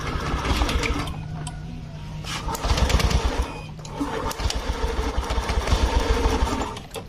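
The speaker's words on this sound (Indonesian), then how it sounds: "Tidak perlu diengkol, langsung saja double starter." A motorcycle engine cranks on its electric starter and catches into a steady, slightly uneven idle with a rough, buzzing mechanical chatter throughout.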